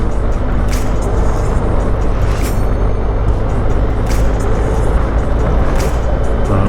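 A BMW GS Adventure 1250 motorcycle on the move, its engine drone mixed with loud, steady wind rush throughout, with occasional bursts of buffeting.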